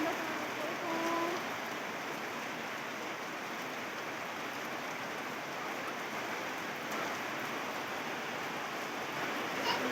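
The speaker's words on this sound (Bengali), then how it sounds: "দেখুন কি বৃষ্টি" Heavy rain falling outdoors, a steady dense hiss of drops at moderate distance, continuous and even throughout without talking.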